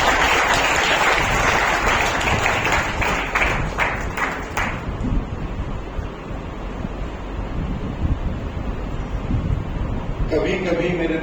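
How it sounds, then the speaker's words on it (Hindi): Loud, dense applause from an audience at an oratory award ceremony, sustained and even across the clip, easing slightly partway through, with a voice starting up near the end. "जोरदार तालियों के साथ"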